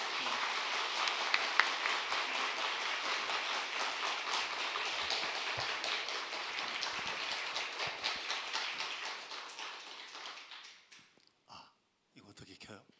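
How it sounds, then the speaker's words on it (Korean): Church congregation applauding to welcome a pastor at a revival meeting, a dense, sustained wash of clapping that holds for about ten seconds before thinning to a few scattered claps. "나오실 때 우리 박수로 환영하겠습니다."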